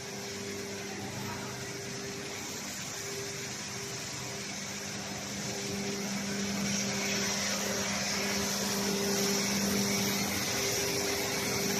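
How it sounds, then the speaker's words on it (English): A fan runs inside a dryer on a fiber cement board production line, making a steady, close mechanical whir with a constant hum that swells slightly partway through, with no talking. "Yes, this is the dryer."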